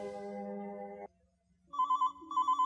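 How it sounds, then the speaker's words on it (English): Telephone ringing: one long electronic chord-like ring for about a second, a short pause, then a brighter trilling ringtone pulsing in rapid repeated bursts, close and clear with no voices. "Just then, the telephone rang."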